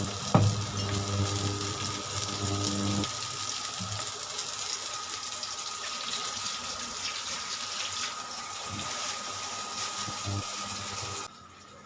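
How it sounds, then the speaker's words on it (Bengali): Onions frying in a kadai give a steady, close sizzle that carries through the whole stretch, with a short clatter near the start and no talk over it. "আমার পেঁয়াজটা আমি দিয়েছি তো কড়াইতে, ভাজা ভাজা হয়ে গেছে"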